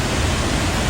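Waterfall at Sekar Langit, heard from directly beneath it as a steady, loud, broadband roar of falling water filling the whole second, with no voices.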